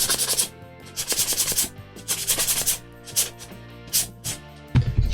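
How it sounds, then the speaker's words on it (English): Hand sanding of a prop fin, rhythmic rasping strokes in quick bursts with short pauses, close and fairly loud, ending with a light knock. "let's give this a bit of a sand."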